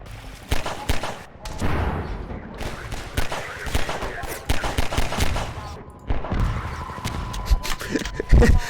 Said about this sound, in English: I just shot one... I exploded one barrel.